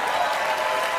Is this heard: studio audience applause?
yes